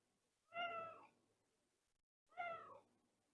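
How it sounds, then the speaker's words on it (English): Two distinct cat meows, each about half a second long, separated by a pause, fairly close and clear against a quiet room. "if you hear meowing"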